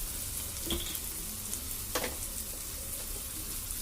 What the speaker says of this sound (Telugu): ఇప్పుడు దీన్ని బాగా ఫ్రై చేసుకుంటాం